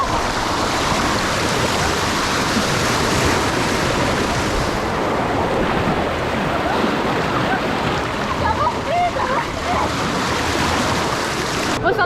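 Rushing, splashing water on a wild river ride at Rulantica water park, a loud continuous churn that fills the whole stretch with only brief dips.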